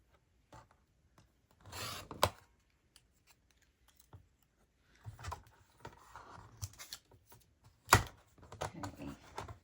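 Scissors cutting words off a sticker sheet, soft close snips and paper rustles in sparse bursts separated by quiet pauses, with one sharper snip near the end.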